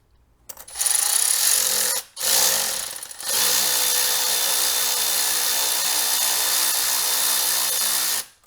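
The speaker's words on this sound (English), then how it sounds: "we can start to get that clamp tightened down and make sure it is in place" A power tool tightens a clamp on the intake tube coupler of a RAM TRX aFe Super Stock intake, onto a carbon fiber tube: a short whirring burst, a pause, another brief burst, then one long steady run.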